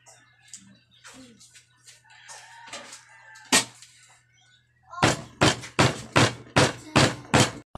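Sharp, regular hammer blows pounding an octopus, about eight in a row, after a stretch of quieter clatter and a rooster crowing in the background.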